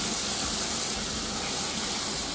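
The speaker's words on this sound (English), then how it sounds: "Fill it up with a good amount of water." Water gushes from a tap into a cooking pot holding duck fat for a cassoulet, a loud, steady rushing pour heard close and alone.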